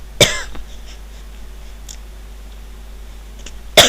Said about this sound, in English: I wish this cough would go away